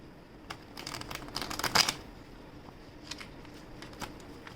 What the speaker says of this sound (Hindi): I have not shuffled it. Okay, so let me just shuffle it first.